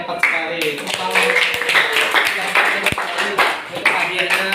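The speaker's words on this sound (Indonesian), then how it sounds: "Tepuk tangan." Classroom clapping from a group of students, a run of dense irregular hand claps lasting several seconds, with voices chattering underneath.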